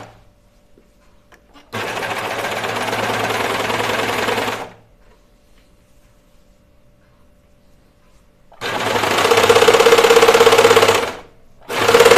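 A sewing machine stitches a seam in two loud, close bursts of fast mechanical whirring, separated by a few seconds of near silence, with a third burst starting at the very end.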